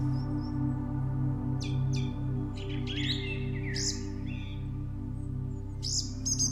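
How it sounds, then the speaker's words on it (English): Small songbirds chirp and trill in a Hyrcanian forest, their bright calls coming in scattered bursts at moderate distance over a steady low hum of ambient noise. "I close my eyes and listen to the birds singing"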